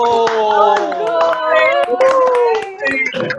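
Audience members at a Toastmasters club meeting clap in scattered sharp claps while several voices talk and exclaim over them, close and lively.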